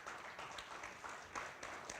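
An audience at a candidate forum applauds steadily, a soft, even patter of many hands heard from some distance, with no talking over it.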